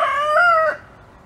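A rooster among laying hens in an apple orchard crows once, a clear, fairly close call that rises and then drops off, with no talking.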